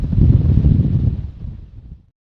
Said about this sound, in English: We'll try and cope with this wind